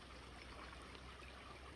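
A flowing stream on an outdoor walk, a faint continuous wash of running water with a steady hiss and no distinct splashes, alone without voices.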